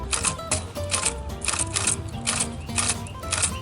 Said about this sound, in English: a typewriter is a fantastic tool for thinking. The keystrokes are violent and beautiful.